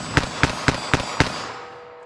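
.22 Magnum rifle fires five sharp, loud shots in quick, evenly spaced succession, each a crisp crack, with a short fading tail after the last.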